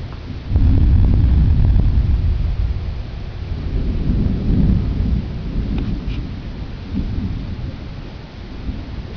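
A heavy thunderstorm brings loud, deep rolling thunder that swells and fades over several seconds, layered over steady rain, with no voices.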